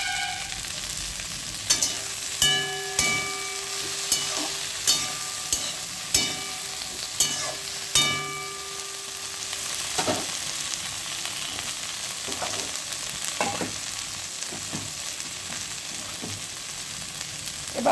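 Tomatoes and green chillies fry in a pan, a steady close sizzle punctuated by regular clinks and scrapes of stirring, loudest in the first half and settling into continuous frying afterward.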